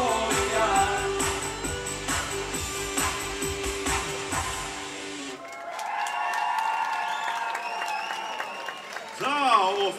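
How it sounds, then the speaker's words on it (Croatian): Audience applause at the RiSONGić 2016 festival, a burst of clapping rising after the band stops playing and continuing under a voice addressing the crowd, with the music fading beforehand. "Hvala vam na pljesku."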